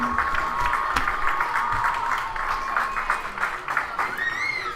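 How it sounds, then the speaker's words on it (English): A crowd applauds at a high school homecoming football game halftime, the clapping and light cheering soft and somewhat distant outdoors, with a thin whistle rising near the end. "Let's give another round of applause for all of our candidates"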